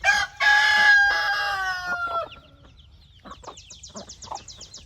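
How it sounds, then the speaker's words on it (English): A hen lets out a long, loud vocal call, followed by a series of quieter, rhythmic clucks and short calls. "And these 2 hens that are sharing chicks, they're still doing good."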